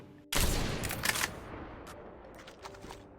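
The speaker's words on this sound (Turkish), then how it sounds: "Bana sıkıyor hala." Gunfire in the mobile shooter Call of Duty: Mobile, with a dense burst of shots at the start followed by scattered fainter shots and game noise.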